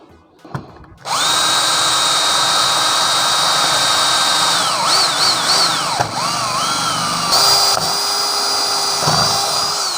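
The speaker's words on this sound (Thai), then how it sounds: "ทำการเจาะนะครับ" A cordless power drill driven by a homemade 12 V 4.0 Ah battery pack for a Makita 6270D bores a hole at an angle, its motor whining steadily and loudly for about nine seconds, with pitch dips as the bit loads and frees.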